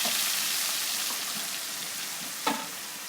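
Onion paste sizzles and fries steadily in hot ghee or oil in a kadai for Lahori chana masala, with a brief louder stir or spatter near the end and no talking.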